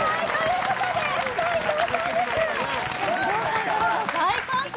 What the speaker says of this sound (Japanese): 大歓声聞こえてきます